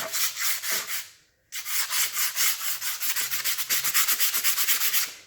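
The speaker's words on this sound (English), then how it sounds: "I'm just going to start sanding it." Rhythmic back-and-forth sandpaper rasping on painted wood, steady strokes close up, with a brief pause before the scrubbing resumes at a quicker pace.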